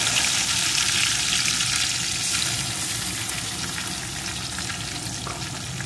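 Tomato pieces and ginger paste fry with spices in a pan for a mixed vegetable dal, a dense, continuous hissing sizzle that holds loud and close, then eases slightly, with no speech.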